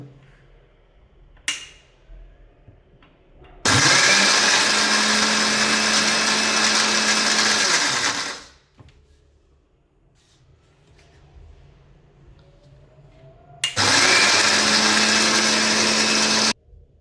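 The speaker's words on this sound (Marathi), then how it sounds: "आता आपण हे धणा पावडर आपण करून घेऊ आता मिक्सरला दळू" A mixer grinder grinds coriander seeds with turmeric into powder in two loud, whirring bursts, a long run of about five seconds and then a shorter one of about three seconds, with quiet clinks and handling between them.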